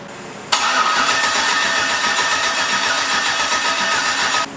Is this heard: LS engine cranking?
yes